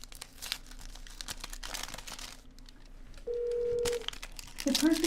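A phone redials a number: a quick run of short keypad tones, then a steady ringback tone, with rustling handling noise and a brief electronic voice response at the end.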